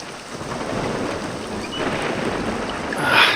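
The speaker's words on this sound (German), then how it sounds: "Also das Donnern nervt gewaltig" Video game thunder from Hellseed rolls as a loud, sustained rumble mixed with rain noise, with a brighter crack swelling near the end and no talking.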